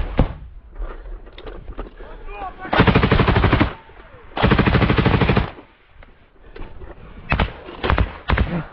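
Assault rifle fire in combat comes in two long sustained bursts of rapid loud shots, with scattered single shots around them and shouted voices between.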